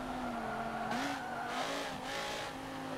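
Race car in Forza Motorsport 7 braking hard, its engine note dropping as tires squeal and skid in several rough bursts under a steady, fairly loud mechanical drone.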